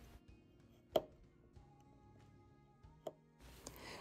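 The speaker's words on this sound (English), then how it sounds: "The dining room table is made from two coffee stirs, so I just cut them into much smaller pieces" Tiny wooden coffee stirrers are cut into small pieces for 1:144 scale dollhouse furniture, giving a few sharp, isolated snaps and clicks spaced apart over quiet room tone, with no talking.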